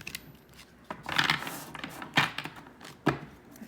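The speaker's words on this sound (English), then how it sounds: "I will do the standard shuffling" A deck of matte affirmation cards being shuffled by hand, short papery riffles and slaps in a few separate bursts with quiet gaps between them.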